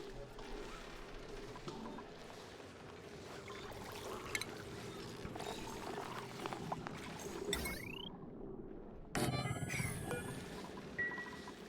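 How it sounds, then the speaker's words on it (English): A desalinator machine runs in the game Oxygen Not Included, a steady low mechanical drone beneath scattered clanks, crashes and other game effects, fairly faint overall. "You can hear the desalinator cranking out."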